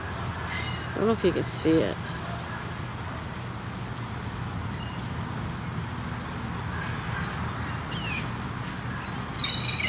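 A few distant seagull cries in Canada ring out briefly near the start over a constant outdoor roar, with a person speaking close by.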